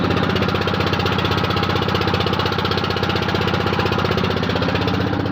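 A motor boat's engine chugs steadily and loudly on a river near the Farakka barrage, a continuous close mechanical drone with a fast rhythmic pulse and no talking.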